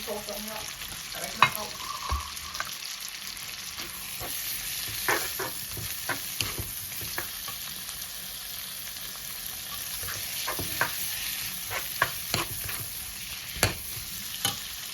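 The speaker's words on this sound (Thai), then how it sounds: "ผัดเลยจ้าผัดเลยจ้าผัดเราเต็มจานเลย" Food sizzles steadily in a hot pan while a utensil stirs and scrapes it, sharp clinks recurring irregularly over the constant frying hiss, close by and without talk.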